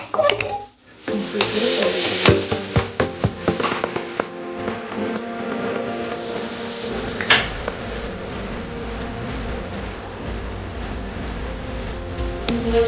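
Turmeric, salt and chili powder masala being mixed in a pan with broccoli for a paneer and mushroom dish, giving a run of quick tapping scrapes early on, then a steady busy clatter and sizzle.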